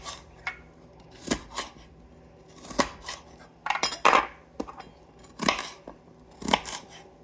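A knife cutting a garden onion for salsa, with crisp separate chops and crunches coming in irregular bursts, close and fairly quiet, no talking.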